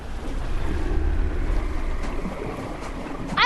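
Water splashing and churning steadily as a player falls in and paddles in the VR game Animal Company, a continuous rough wash with wind-like noise and no voices.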